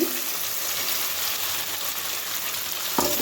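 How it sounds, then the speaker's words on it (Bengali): Soya chap and potato pieces frying in spiced oil in a pan, giving a steady dense sizzle with a faint clatter near the end. "তো দিয়ে আরও কিছু সময় আমি ভাজি করবো।"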